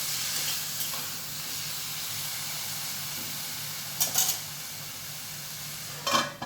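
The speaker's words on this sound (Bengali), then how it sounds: "আমার বিনা হলুদে কলাটাকে ভাজবো" Salted plantain slices fry in oil without turmeric over a slow flame, a quiet continuous hiss and sizzle with a couple of brief louder clinks or stirs near the end, no talking.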